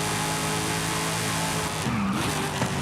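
Mitsubishi Evo engine in Forza Horizon 5, a steady, loud droning note holding for nearly three seconds, with a brief dip and rise in pitch near the end.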